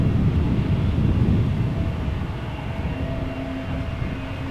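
A KLM Embraer 195 E2 jet at Amsterdam Schiphol Airport, its engines a steady, loud, broad rumble with a faint whine that eases slightly over several seconds.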